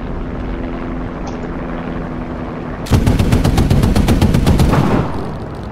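A rapid, sustained burst of .50 calibre machine gun fire rattles out over a steady aircraft engine drone in a flight combat video game, loud and close, lasting a couple of seconds.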